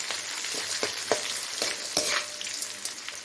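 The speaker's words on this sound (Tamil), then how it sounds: "பூண்டு, கருவேப்பிலை, கொஞ்சமாக ஒரு 10 செகண்டு கொஞ்சம் வதக்கி விடணும்." Garlic and curry leaves fry in a pan for podi idli, a steady close sizzle with scattered sharp pops and crackles throughout, no voices.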